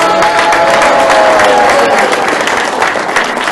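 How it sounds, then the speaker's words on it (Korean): A large audience at an invited guest lecture claps loudly and steadily throughout, a dense wash of applause with a faint tonal hum early on and no talking. "박수를 한번 부탁드리겠습니다."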